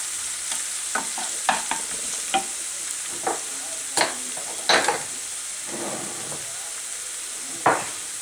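Tomato paste sizzles and roasts in a pan, a continuous hiss broken by a series of sharp scrapes and clicks as it is stirred, with no talking.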